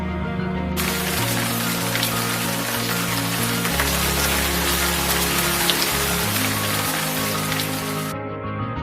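Rain falls steadily on an outdoor sports field, a dense continuous hiss of drops hitting the surface that holds loud and even throughout, with low rumbling underneath.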